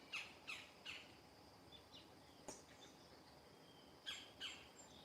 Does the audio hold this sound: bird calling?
yes